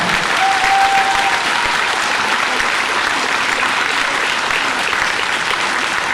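Loud, dense applause from a large audience at a 2025 school graduation ceremony, continuous clapping that holds steady for several seconds with no speech over it.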